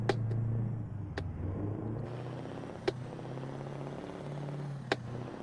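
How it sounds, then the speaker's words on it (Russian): A Scania R580S truck engine idles in Euro Truck Simulator 2, a steady low rumble with a faint purring texture. A few sharp clicks cut in briefly, and no one speaks. "остается запускать двигатель"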